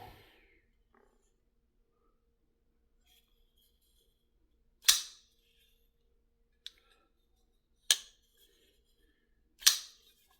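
A TWOSUN TS509 folding knife with a titanium frame lock flips open several times in a quiet room, each one a sharp, isolated snap spaced a couple of seconds apart, with a fainter click between them.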